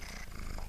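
A pet cat purring right up against the camera, a steady, close, rhythmic rumble with no other sound.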